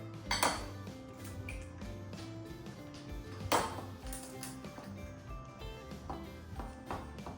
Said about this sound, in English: It's time to whisk in our 2 eggs.